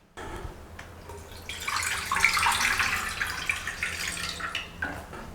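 Water runs steadily into a metal pan set on a trivet for steaming, a continuous splashing pour that builds for several seconds, close and fairly loud with no talking.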